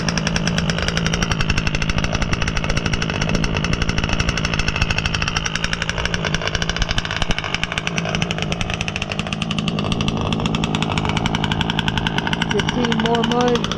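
Rich-running gas engine of a Losi 5B RC car, a loud continuous buzzing rattle held steady throughout, close by, with a voice speaking over it.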